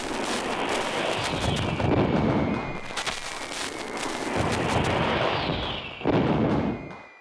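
Dense, continuous crackling of firecrackers going off nearby, loud and rough, with a few sharper bangs punching through the roar.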